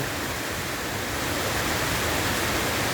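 A dense, steady hiss of heavy rain pours down without pause, loud and enveloping, with no voices.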